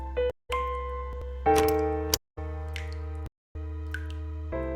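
A doorbell in the video game The Cat Lady rings out in a series of clear, resonant chimes separated by brief silences, loud and close with no voices.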